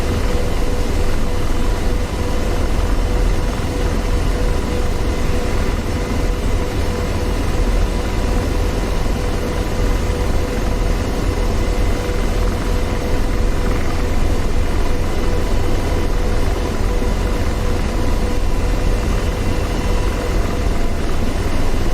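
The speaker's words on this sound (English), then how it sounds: "Greenlight says that helicopter sounds real beefy." Steady, loud AH-64D Apache attack helicopter rotor roar in the DCS World flight simulator, a dense whooshing drone, continuous and unchanging throughout, hovering close by.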